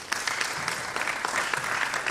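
Conference audience applause at a biomedical research meeting, a dense, steady wash of many hands clapping for a couple of seconds without any break.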